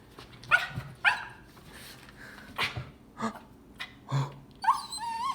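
An excited dog greeting its owner indoors gives short sharp barks and high whimpers and whines in irregular bursts, close and fairly quiet, with a few squeaky yips at the end.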